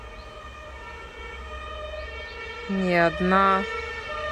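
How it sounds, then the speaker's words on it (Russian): A police car or ambulance siren passes on a street, a wailing two-tone rise and fall that swells briefly over steady background hum, with a person's voice faintly nearby. "То ли полиция, то ли скорая."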